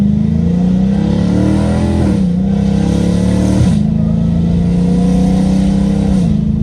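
Dodge Hellcat Redeye engine revving loud and close as paddle-shift downshifts blip the throttle, with a steady deep drone rising and dropping in pitch twice.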